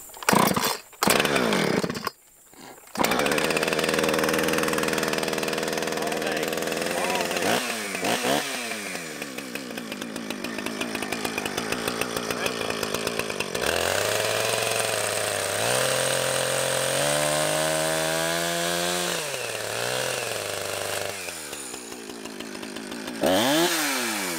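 A Husqvarna chainsaw sputters and starts after a few pulls, then runs loudly, its engine revving up and down repeatedly.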